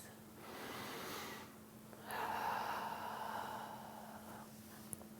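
Long, audible exhalations through the nose and mouth during a yoga breathing exercise, two soft, drawn-out breaths a couple of seconds each over faint background hum, without speech.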